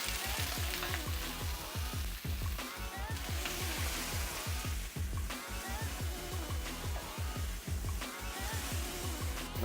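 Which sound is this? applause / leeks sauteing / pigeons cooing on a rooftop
leeks sauteing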